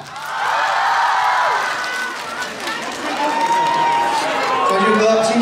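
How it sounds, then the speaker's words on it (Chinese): A crowd at a Shanghai film road show for Hidden Blade roars with applause and cheering, a loud sustained mass of clapping and shouting under which an amplified host speaks. "用热烈的掌声有请主演王传君先生"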